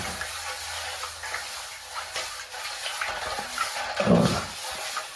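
Spoon swirling and clinking in a container of lukewarm salted water, a soft continuous stirring with a brief louder scrape near the end.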